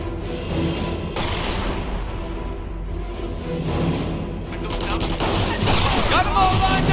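Sustained gunfire from a World War II battle in Company of Heroes, dense overlapping bursts and booms rolling continuously, growing heavier and closer toward the end, with game unit voice lines mixed in.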